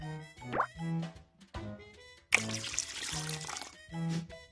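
Water poured from a cup in a kids' baking app game, a short splashy gush of about two seconds set between bouncy musical cues and a brief closing chime.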